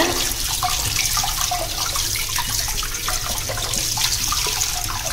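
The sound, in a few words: washing raw papaya under running water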